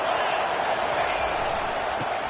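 A football stadium crowd roars steadily throughout, a dense, unbroken wall of noise at fairly even loudness with no distinct cheers or claps standing out.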